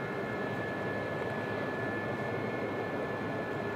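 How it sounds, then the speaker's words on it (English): A Gazelle helicopter flies over Normandy, its engine and rotor making a constant, dense drone that holds steady and fairly loud throughout, with no talking. "it's a joy to fly the Gazelle again"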